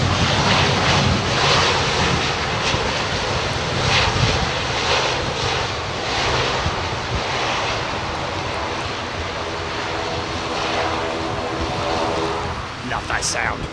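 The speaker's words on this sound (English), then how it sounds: "Love the sound of a turboprop" A turboprop airliner arriving at London Heathrow Airport on a windy day roars loudly and steadily as it passes nearby, with wind buffeting and people talking over the engine noise.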